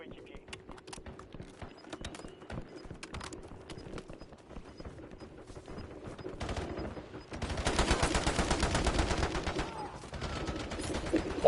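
Call of Duty Warzone gunfire, scattered sharp shots that build to a dense burst of rapid automatic fire near the end, with game voice lines and a player talking throughout.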